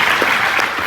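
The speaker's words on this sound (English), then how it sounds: "I want to thank my panel. Please let's a round of applause." A conference audience applauds a business panel, a brief dense burst of many hands clapping together, close and loud.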